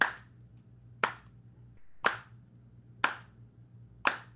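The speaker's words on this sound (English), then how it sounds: "Clapping the first triplet would just be on the beat" Hand claps struck alone in a steady pulse, five sharp, evenly spaced claps about one second apart, marking the first triplet of each beat in a jazz rhythm exercise, close and clear over a quiet room.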